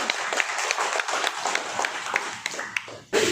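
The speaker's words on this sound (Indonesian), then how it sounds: "Kita sambut dengan tepuk tangan yang meriah." A burst of applause at a village head candidates' peace declaration in Indonesia, with dense, steady clapping throughout and a few sharper claps standing out, ending abruptly.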